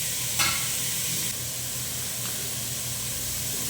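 Large onions dropped into hot oil in a pan for a potato and beef biryani hiss and sizzle steadily, with a sharper burst as they land and then a constant close frying crackle.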